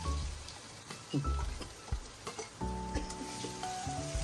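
Garlic-chili paste and onion sizzle in a pan while making Marwari-style dhokla, a soft close crackle broken by stirring clinks and scrapes, with a faint tone running underneath toward the end.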